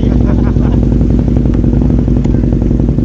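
A motorcycle engine runs steadily and loudly up close, a constant throbbing rumble throughout with people talking over it.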